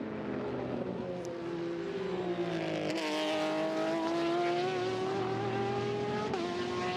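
A race car's engine note rises and falls in pitch across several passes at Road America during an IMSA road race, a distant whining roar with sharp gear-change blips and no speech; exhaust exits straight down.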